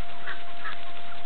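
Chickens cluck at close range in a small coop on a country farm, a brief run of soft clucks over a muffled background.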